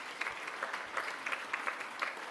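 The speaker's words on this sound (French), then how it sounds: "Vous pouvez les applaudir malgré leur départ." Audience at a French political gathering applauds departing speakers, a moderate crowd clapping with a few sharper individual claps standing out, steady and slightly distant throughout.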